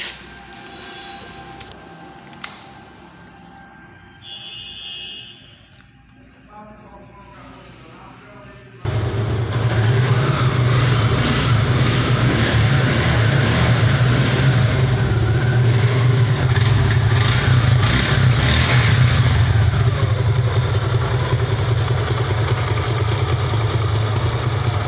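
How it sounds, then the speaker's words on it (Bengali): A black 2024 Suzuki Gixxer Monotone 155cc motorcycle starts up after a quiet stretch with some talk. The engine then runs loud and close, holding a steady throbbing drone with slight throttle swells. "আমি বাইকটির সাউন্ড কোয়ালিটি আপনাদেরকে দেখালাম, পিক আপ টেনে এবং ছেড়ে দিয়ে আপনাদেরকে দেখালাম"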